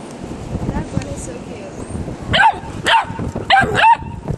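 A Doberman barks and yips in several sharp, close bursts, with whimpering between them, while a person talks over the earlier part.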